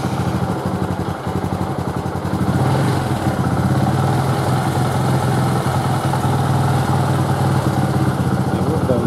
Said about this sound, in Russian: Теперь мы заводим мотоцикл, проверяем, как он работает